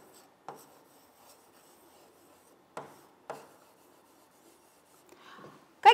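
A pen scratching handwriting onto paper during a sixth-grade school lesson, a few separate short strokes spread out with quiet gaps between them, close by, ending with a sharper scrape.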